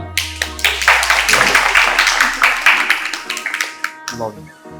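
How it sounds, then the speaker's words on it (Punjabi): Applause from a school audience at Orane International, Bathinda, welcoming a recently married guest: dense clapping that holds steady for about four seconds, then thins into a few scattered claps, with faint voices mixed in. "ਜ਼ੋਰਦਾਰ ਤਾੜੀਆਂ"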